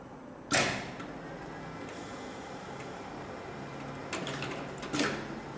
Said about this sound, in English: the machine will cycle up and down